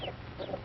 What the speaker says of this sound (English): These are Plymouth Rock chickens.